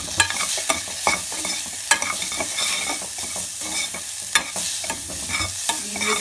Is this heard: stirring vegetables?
yes